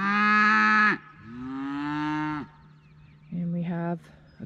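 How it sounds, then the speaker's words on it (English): Cattle on a ranch lowing, with several loud, close moos, two long drawn-out calls followed by a shorter one after a brief pause, and no talking. "we have a couple noisy cows"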